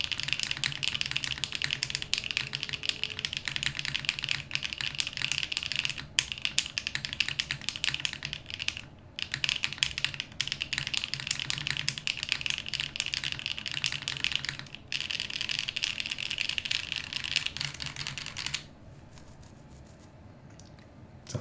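Close, steady typing on a rebuilt GLO Classic TKL mechanical keyboard, a dense run of crisp clacking keystrokes with brief pauses and a softer stretch at the end.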